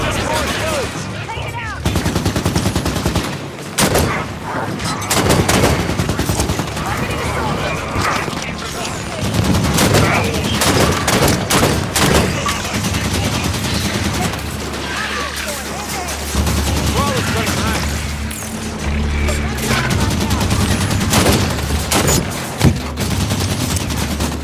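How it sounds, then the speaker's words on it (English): Auto turrets in Halo 5 fire in long, continuous bursts amid heavy battle noise and booms, loud and close throughout, with voices speaking over the gunfire. "If we turn these back on, they'll make quick work of the turrets on and firing."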